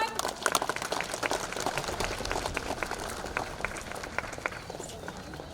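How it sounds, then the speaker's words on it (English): An audience at a washroom inauguration claps in a burst of applause, loud at first and then thinning into scattered claps that fade over several seconds. "Let us all clap, everyone."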